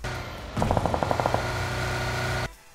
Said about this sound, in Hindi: आते ही मुझे यहाँ पे गोली चलने की आवाज आती है